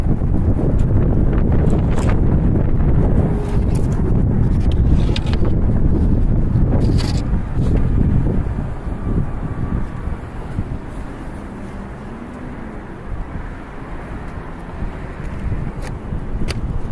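Strong outdoor wind buffets the microphone at a camp in California, a loud continuous low roar that eases slightly toward the end, with faint scattered clicks and rustles.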